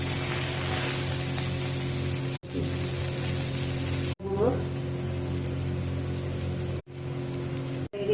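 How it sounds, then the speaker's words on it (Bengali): Onions frying in a pan for a Bengali boroli fish bhorta, giving a steady hissing sizzle across the whole clip, broken by a few brief pauses and faint stirring sounds. "খানিকটা পেঁয়াজ ভেজে নেব।"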